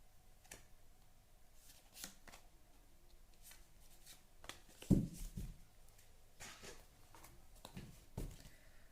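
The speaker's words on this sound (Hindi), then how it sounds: "मैं थोड़े से कार्ड्स मुझे निकालने हैं एकदम अच्छे से" Tarot cards being shuffled and drawn, soft papery riffles and flicks in short bursts, close but quiet, with one sharper snap midway.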